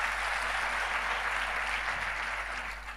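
Steady, dense applause from a church congregation at a large Christian gathering, sustained and fairly loud for the whole stretch, with no voices over it.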